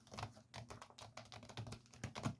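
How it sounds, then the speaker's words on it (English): Fast, loud clacking from a computer keyboard, close-up keystrokes arriving in quick irregular bursts with brief pauses between runs. "So I type really loud."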